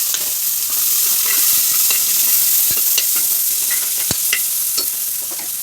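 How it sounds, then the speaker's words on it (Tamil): Onions fry in oil with fennel seeds and curry leaves for mutton curry, giving a loud, close, continuous sizzle while a spoon scrapes and stirs the pan in several sharp strokes, with no voices. "வெங்காயம் வதங்கிட்டோம் வெங்காயம் வதங்கிடுச்சுங்க"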